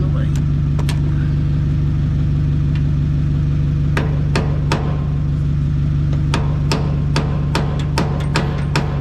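Hammer striking a roll pin on a Gleaner R52 combine during throat removal, a series of sharp metallic blows in uneven bursts over a steady engine or generator drone.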